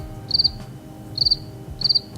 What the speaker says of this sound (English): is there a crickets button?